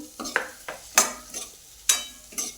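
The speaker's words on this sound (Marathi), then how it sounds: "आता गॅस मोठा करायचा आणि तेलावर जरा परतून घ्यायचं" Stuffed ridge gourd is stirred and sautéed in hot oil over a raised flame, with a series of sharp, close scraping bursts about every half second over a faint sizzle.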